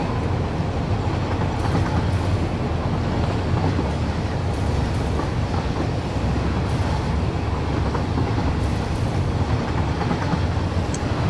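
Trains on a single long rail line in the Satisfactory factory game produce a steady, dense rumble of rolling wagons, continuous and moderately loud throughout with no voices.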